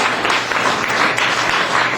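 A burst of applause from a crowd, dense clapping that holds steady for a couple of seconds.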